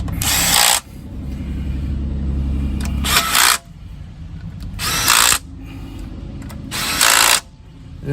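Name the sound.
power tool tightening transmission pan bolts, Buick Lucerne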